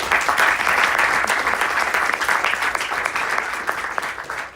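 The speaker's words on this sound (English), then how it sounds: "So thank you and a round of applause." Audience applause at a finance panel discussion at Imperial College, a steady dense clapping that fills the whole stretch at close range and tapers slightly toward the end, with no voices over it.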